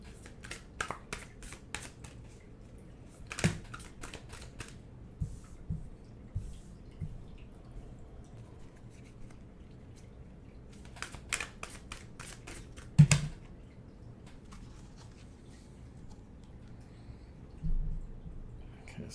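Tarot cards are shuffled in quick riffling bursts, crisp flutters separated by quiet pauses, close and fairly soft with no talking.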